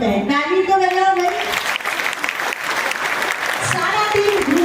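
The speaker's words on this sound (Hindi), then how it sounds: "ताली तो बजाओ भाई।" An audience at a spiritual gathering breaks into sustained applause that fills the whole stretch, loud and dense, while a voice is heard over the start of the clapping.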